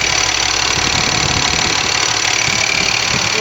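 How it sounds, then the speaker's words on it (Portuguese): Electronic Cummins diesel engine in a kart running steadily at close range, a continuous rough idle with a low knocking rumble and no voices. "No caso desse motor Cummins,"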